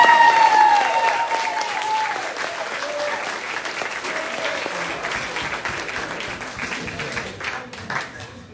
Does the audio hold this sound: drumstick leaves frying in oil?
no